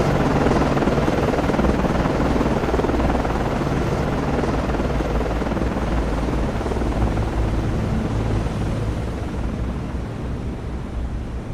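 Helicopter in flight within the naval combat game Cold Waters, a steady loud rotor and engine roar holding throughout with no pause, tapering slightly toward the end.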